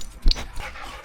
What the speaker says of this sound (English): Our dog when you get home.